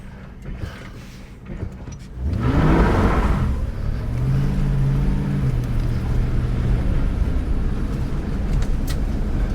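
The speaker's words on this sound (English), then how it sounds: "take it for a nice leisurely little drive" Ford Crown Victoria after a wheel bearing replacement pulling away and cruising slowly down a driveway, engine revving up then settling into a steady rumble with a low tonal drone, close and continuous.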